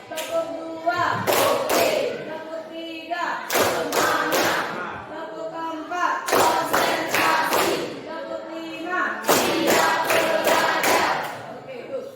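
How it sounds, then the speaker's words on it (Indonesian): Students in a classroom clap together in a patterned cheer, with four distinct bursts of sharp, loud clapping separated by brief pauses and voices mixed in. "Ada 5 tepuk tangan"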